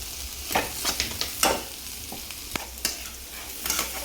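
A paneer masala mixture, with paneer fried in ghee on a tawa, sizzles steadily in a pan as a spoon scrapes and stirs it in repeated close strokes.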